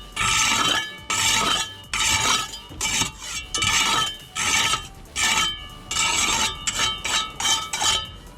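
Mortar joints on pointed brickwork being rubbed up with a jointing tool: steady scraping strokes in a repeating rhythm, about a dozen passes with brief pauses, close and fairly loud, with no voices.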